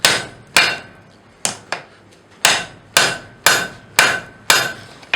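A hammer strikes a hot railroad bolt on an anvil as it is forged into a small anvil, about nine sharp ringing blows in a steady but uneven rhythm, each clanging briefly before the next, with no talking.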